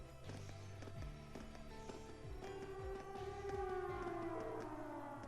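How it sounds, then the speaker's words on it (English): A wailing air raid siren sounding from a fort in the Trails of Cold Steel video game, a long rising and falling tone heard at a distance over steady game ambience and rhythmic footstep-like taps. "Is that an air raid siren? It's coming from the fort."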